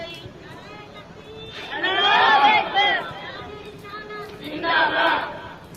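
A crowd at a religious gathering chants slogans in two loud swelling bursts of many voices together, with quieter murmur between them.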